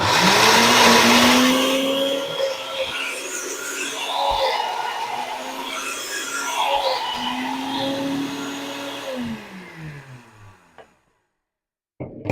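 A blender grinds pomegranate shells and seeds, a loud steady motor whir with rising and falling pitch as the blade loads and frees, then spins down and cuts off near the end.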